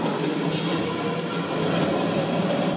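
Subway train rolling and rumbling with squealing wheels and faint clickety-clack in an anime scene, a steady close roar lasting a few seconds with no talk.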